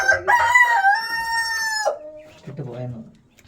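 A hen disturbed while laying eggs calls loudly up close, one long drawn-out crow-like call that breaks off, followed by lower clucking squawks.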